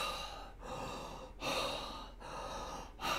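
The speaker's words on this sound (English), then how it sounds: "Take 3 quick breaths" Three quick, forceful breaths taken close to the microphone during a guided breathing session, each a sharp broadband rush of air separated by brief pauses.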